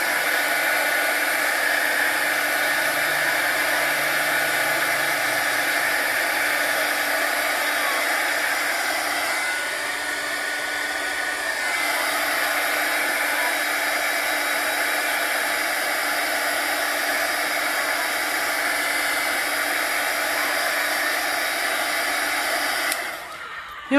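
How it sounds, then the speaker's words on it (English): A heat gun blows steadily and loudly while drying paper butterflies, a continuous close whooshing roar lasting the whole stretch with a slight dip midway before cutting off at the end. "I just didn't want you guys to have to sit there and watch me dry them with that loud gun going off"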